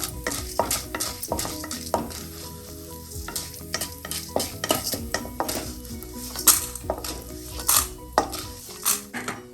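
Urad dal fries and sizzles in hot oil in a pan while a metal spoon stirs it, with steady crackling and frequent close scrapes and clinks against the pan.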